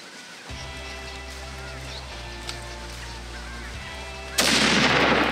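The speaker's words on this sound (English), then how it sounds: "Oh, that's a good shoulder shot." A single loud rifle shot fired at a water buffalo during a hunt in Australia's Northern Territory bursts out near the end, following a steady low engine-like hum and quiet background.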